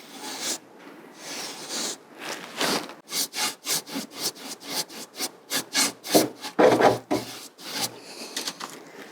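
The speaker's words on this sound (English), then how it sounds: "I'm painting in the direction of the grain, so my brush strokes are running along the length of the wood" A paintbrush is drawn along the grain of a wooden furniture piece during upcycling, making close, soft swishing strokes. A few slower sweeps come first, then a quicker steady rhythm of short brushing passes, with no talking.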